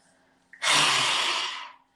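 A single loud, forceful breathy exhale, harsh and roaring, lasting about a second, preceded by a brief soft intake, made during a pranayama breathing exercise.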